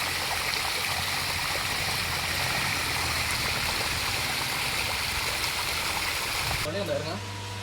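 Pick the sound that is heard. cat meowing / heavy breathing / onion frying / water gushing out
water gushing out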